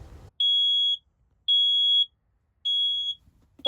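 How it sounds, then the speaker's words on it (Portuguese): A smoke alarm goes off in a small space, sounding three loud, shrill, evenly spaced beeps, each about half a second long, separated by short silences. "qualquer fumaça já aciona o alarme"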